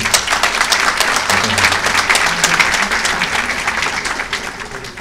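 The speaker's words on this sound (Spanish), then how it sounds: "Nos mostramos, por favor, los aplausos" Sustained applause from a conference audience at an awards ceremony, dense clapping that holds steady for several seconds before easing slightly at the end.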